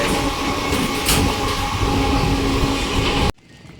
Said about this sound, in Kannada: ಸೊ ಇದೇ ನಮ್ಮ ಟ್ರೈನು.